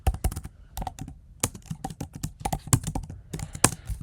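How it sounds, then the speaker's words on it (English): Quick clicking keystrokes on a computer keyboard come close to the microphone in irregular bursts and short pauses, like typing a line of code. "Again I need to type"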